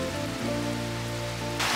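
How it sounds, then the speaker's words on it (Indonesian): Steady rain patters outdoors in an even, continuous hiss that runs the full length, fairly faint, with no one talking. "Beneran hujan dong."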